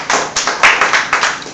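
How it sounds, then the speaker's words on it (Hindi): An audience clapping at a talk, a fairly loud stretch of applause heard as a steady train of sharp, evenly spaced claps with no talk over it. "इनके लिए जोरदार ताली बजाइए।"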